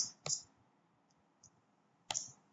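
Sharp laptop key presses, likely the Enter key, heard as two distinct clicks about two seconds apart with faint ticks between, close and alone in a quiet room.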